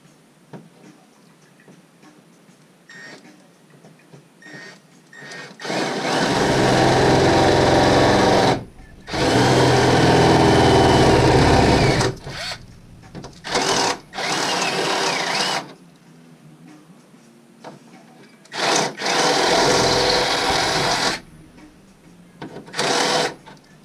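A drill bores holes for hood handles on a Hummer H3, with several loud, close bursts of whining drilling of varying length separated by quiet pauses.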